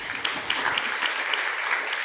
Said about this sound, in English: Please give another big round of applause to the panel.